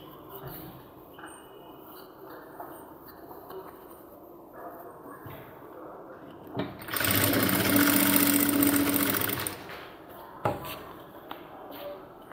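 A sewing machine stitching a cargo half pant, quiet handling and faint background murmur at first, then a steady motor whir of about three seconds of continuous stitching, then a short second burst.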